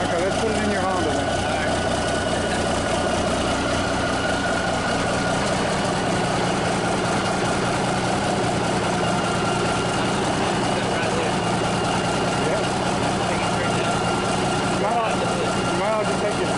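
A Cummins 350 Big Cam diesel engine idles steadily just after its first start in years, a continuous low rumble running the whole time, with people talking over it.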